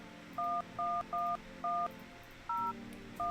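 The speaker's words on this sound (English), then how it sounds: "Let's call the neighbor." Dual-tone telephone keypad beeps in a video game sound as six short, evenly spaced tones over a quiet background, clear and close with no voices.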